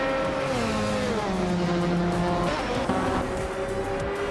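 A Ferrari 575 GTC race car in a racing video game, its engine droning loudly and continuously as the pitch slides down through gear changes, with tire squeal mixed in.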